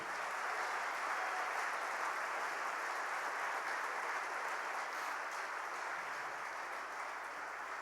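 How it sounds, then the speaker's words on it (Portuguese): Steady, continuous applause from a church congregation fills the space at moderate, even loudness throughout, a dense wash of many hands clapping together without pause. "Você pode aplaudir Jesus por isso, amém?"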